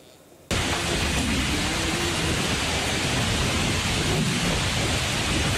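Heavy rain pours down with strong storm winds during a tornado-driven storm in Tapos, Depok, West Java, a dense roar bursting in after a brief quieter moment and holding loud and constant.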